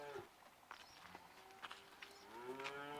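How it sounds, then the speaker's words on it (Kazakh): One or two cows low in a field, their drawn-out moos rising and falling as faint calls over a quiet background. "Бір-екі сиыр күйлеп жүрген"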